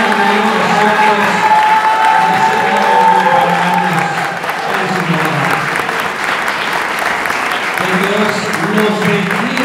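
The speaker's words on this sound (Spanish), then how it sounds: "denles un fuerte aplauso" Wedding guests in a church give the newlyweds a loud applause: dense, continuous clapping with some cheering and whoops, while voices talk and call out over the crowd.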